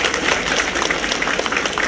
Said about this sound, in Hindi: ताली मारिक आशीर्वाद करूँ।